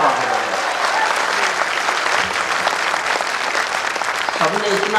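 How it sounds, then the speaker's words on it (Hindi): Dense, sustained applause from a large audience at a Hindi poetry recital (kavi sammelan) in Chauri Chaura, filling the whole stretch with steady clapping and some crowd murmur. "ताली बजा बजा के आप थक गए"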